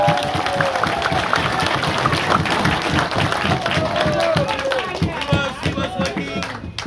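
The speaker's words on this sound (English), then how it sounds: "Give him a round of applause." A crowd at a political gathering for a re-elected member in Moresby South, Papua New Guinea, claps and cheers loudly, with rapid rhythmic clapping and voices calling out over it, continuing steadily before easing off.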